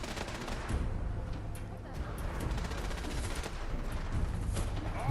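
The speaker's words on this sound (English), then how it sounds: "Someone's shooting over there." Steady crackle of distant gunfire in a modded Fallout 4 game, a dense rattle of shots continuing throughout at moderate volume with a faint voice now and then.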